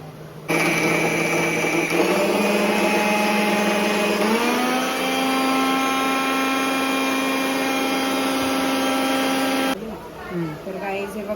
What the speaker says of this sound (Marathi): आम्ही आता मिक्सरलाच हे करतोय तर ह्याचा आता आता बारीक चिरून घेऊ आणि मिक्सरला एकदम नील वाटून घेऊया